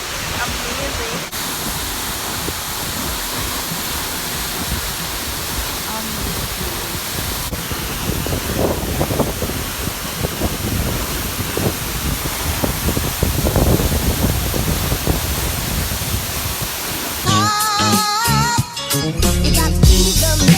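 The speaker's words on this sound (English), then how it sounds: "Waterfall. Amazing." A waterfall in Sikkim roars with a steady broadband rush, loud and continuous and swelling a little midway, and ends in a burst of music.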